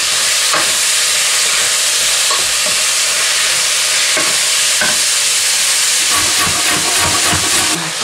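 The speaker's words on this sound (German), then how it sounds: "ich reibe jetzt die Möhre." A carrot being grated by hand in a home kitchen, a steady scraping rasp that continues for several seconds close by, with a broad hiss, occasional clatter and no speech.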